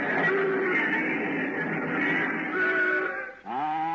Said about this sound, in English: Before noise was outlawed, Broadway sounded like this.